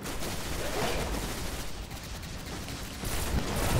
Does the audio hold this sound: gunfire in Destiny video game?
yes